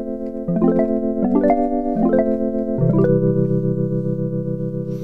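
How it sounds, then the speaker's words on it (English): Vibraphone-style synth patch on a Behringer DeepMind synthesizer plays a few struck, mallet-like notes in sequence, with bell-like harmonic tones ringing on and sustaining into a final held chord. "Someone in the synthesizer subreddit asked if you could make a vibraphone type patch on the DeepMind."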